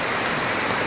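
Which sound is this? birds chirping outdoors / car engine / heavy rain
heavy rain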